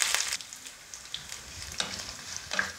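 Curry leaves and green chillies sautéing with onion and grated coconut in a pan for mutton curry, a soft steady sizzle with faint stirring scrapes and a few brighter crackling bursts, close and alone.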